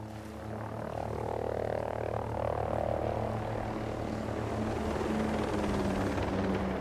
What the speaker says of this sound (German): Na toll, jetzt ein Heli.